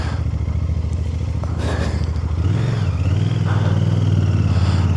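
A Royal Enfield Bear 650 motorcycle is ridden, its engine a loud, close, steady rumble that rises as the bike accelerates partway through, with wind noise.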